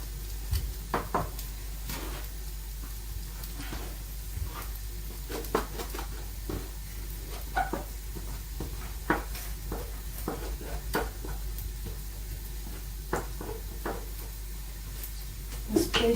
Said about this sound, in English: Let them fry off.